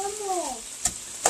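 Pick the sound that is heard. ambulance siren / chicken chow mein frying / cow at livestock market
chicken chow mein frying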